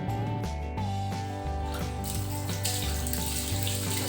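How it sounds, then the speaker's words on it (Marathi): Running water pours into a vessel as cut mackerel pieces are washed, a steady close splashing and trickling with shifting tones as the container fills. "पाणी भरपूर पाणी असे सोडायचं आणि छान असे पात्रात धुवून द्यायचं आहे."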